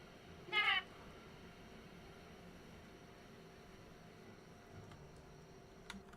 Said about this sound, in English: Did I hear a cat? it's a fucking tiger.